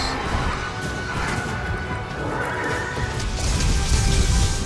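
A horse-like monster in Monster Hunter World Iceborne neighs loudly amid dense game noise of hoof clatter and crashes, sustained and close throughout.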